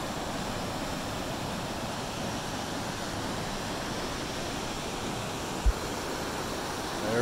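Crystal Falls in Washington pours as a steady broadband roar of falling water, constant and fairly full throughout, with one brief thump near the end.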